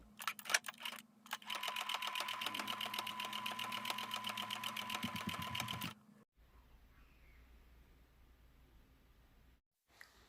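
A sewing machine topstitches a bucket hat in a fast, steady run of stitches lasting about five seconds, close and clear. It stops abruptly, leaving faint background hum and a brief click near the end.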